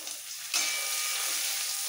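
Garlic paste hits hot oil with cumin tempering and sizzles up sharply after a half-second of quieter frying, then holds a bright, close crackle to the end.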